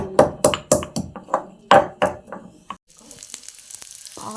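Onions frying in Gold Winner oil with cinnamon, cloves and spice buds for a chicken sambar: a run of sharp metallic spatula clinks against the pan, then a soft, steady sizzle close by.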